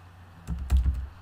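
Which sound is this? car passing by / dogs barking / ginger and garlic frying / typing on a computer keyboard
typing on a computer keyboard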